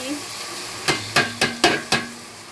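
Rice being fried with bay leaf, cloves and onion, heard as five sharp, evenly spaced spatula scrapes and taps in the pan over a low steady sizzle, close and moderately loud.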